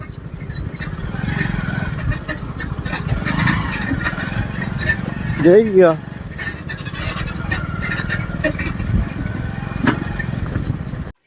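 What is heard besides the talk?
New Holland tractor engine driving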